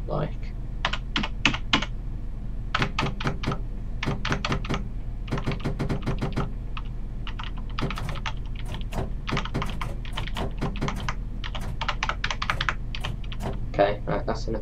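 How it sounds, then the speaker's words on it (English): A clicky computer mouse clicking rapidly in dense bursts, sharp close taps clustered in quick runs with short pauses, over a low steady hum. "So if you can hear like that, it's because I've got a mechanical mouse. Well, not mechanical, but I've got a clicky mouse"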